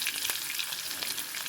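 Mustard seeds splutter and pop in hot oil in a pan, a dense, close crackling hiss with scattered sharper pops running continuously.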